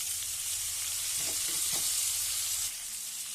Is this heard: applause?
no